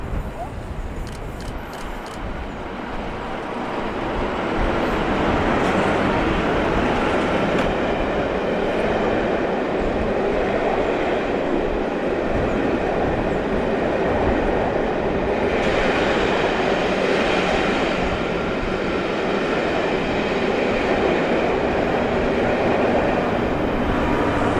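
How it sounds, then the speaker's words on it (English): A pair of Class 33 Crompton diesel locomotives double-heads a rail tour past the former gasworks sidings at Hollycombe, descending towards Paignton; a steady, loud rumble of engines and rolling stock builds within seconds and holds throughout. "we see the pair of Cromptons as they pass the site of the former gasworks sidings at Hollycombe as they descend towards Paignton"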